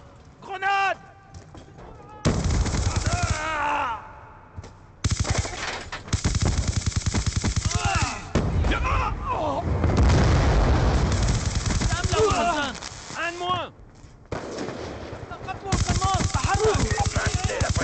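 Grenade blast and automatic gunfire in Black Ops 2 come in loud, dense bursts that swell into a sustained roar of shooting and explosions midway, with spoken game voice lines mixed in.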